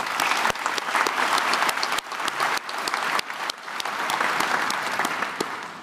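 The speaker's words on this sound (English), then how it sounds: "Can I please have a round of applause for them?" An audience at an Infrastructure Ontario market update gives the staff team a full, steady round of applause, dense clapping holding at an even level throughout.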